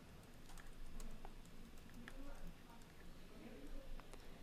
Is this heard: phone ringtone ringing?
no